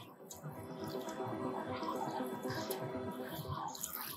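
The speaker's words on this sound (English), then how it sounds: "I'm gonna water them in since they were just planted." Water being poured onto newly planted foxglove plants, a soft, steady splashing and trickling into wet soil, fairly faint and close.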